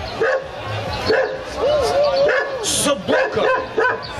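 Dog barking in a festive outdoor program of the Kuldīga celebration, several short yapping barks and whimpers that sound like a person imitating a dog, loud and near amid crowd noise.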